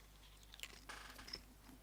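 A few quiet, crisp crunches come from biting into a Yellow Moa Scotch Bonnet pepper pod, close up, with short chewing sounds in near silence.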